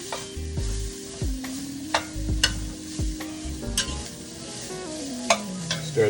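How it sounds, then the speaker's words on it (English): Vegetables sauté in hot oil for a fish stew, crackling and sizzling up close while a utensil stirs and scrapes the pan in sharp, irregular clicks. "got that oil in there while these vegetables are sauteing, getting a little just color on them"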